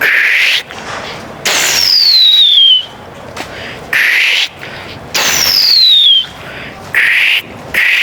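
A voice mimics Pooram festival fireworks: twice, a long descending whistle streaks down, then loud breathy bursts follow, all close and forceful with brief silences between.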